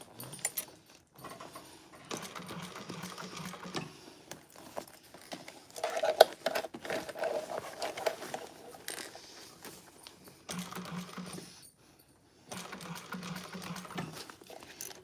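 A sewing machine stitches over an existing seam on a handbag lining, running in several short bursts of rapid mechanical whirring separated by pauses, fairly quiet and close.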